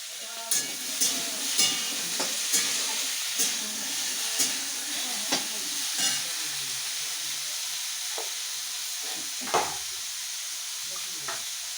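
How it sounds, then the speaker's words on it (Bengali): Aloo posto, potatoes with poppy seeds, being stirred and fried in a pan, a soft continuous sizzle broken by regular sharp scraping clicks of the spatula, with faint background noise. "তো দেখো আজকে রান্না করছি আলু পোস্ত"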